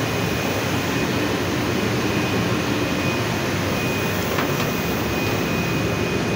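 A Doosan DBC 110 boring machine running in a workshop, giving a loud continuous broadband machine roar with a faint steady high whine and no pauses.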